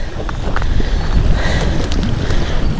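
Strong wind gusting across an open microphone at Lake Norfork, a continuous loud rush with faint splashing and no speech.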